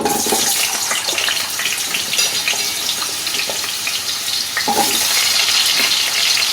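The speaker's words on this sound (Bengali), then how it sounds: "প্রথমে আমি আলুগুলো ভেজে নেবো" Cut potato pieces frying in hot oil in a pan, a steady loud sizzle and hiss running throughout with occasional crackles and stirring clinks.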